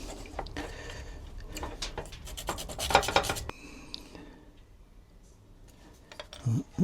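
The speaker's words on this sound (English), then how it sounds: "It's really fine, this sandpaper, because I don't want to take off." Fine sandpaper rubbing paint off a fishing rod, a close, soft rasping scrubbing in uneven short strokes with a denser burst midway, then quieter pauses and small handling knocks.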